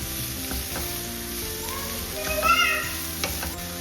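Mixed vegetables sizzle and fry steadily in a hot pan, a constant close hiss with occasional scrapes and knocks of a stirring spoon, while a voice talks faintly underneath.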